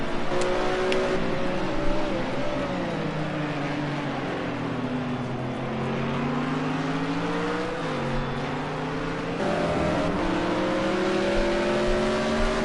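GT3 race cars overtaking at Donington Park, a steady loud engine drone with shifting pitch as the cars run in the slipstream and pass, one gear change near the end.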